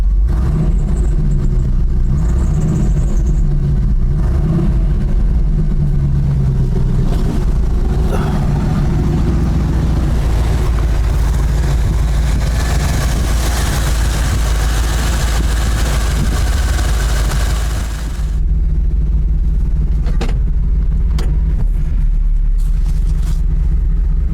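The 350 engine of a 1989 GMC Sierra 3500 pickup idles with a loud, steady, close rumble that holds for the whole stretch, its pitch wavering slightly, with no talk over it.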